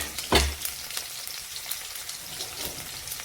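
Crushed garlic and green chillies land in hot oil with a sharp splash, then settle into a steady, fine crackling sizzle close by, with small pops scattered through it.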